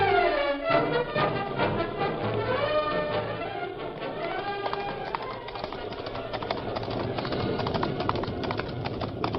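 A horse's hooves clip-clop in a steady rhythm on hard ground through an old Western drama scene, with the horse walking continuously in the middle distance.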